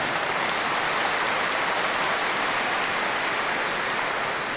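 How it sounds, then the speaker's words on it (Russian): Dense, continuous clapping from a big audience fills the whole stretch, loud and even like heavy rain. "Аплодисменты"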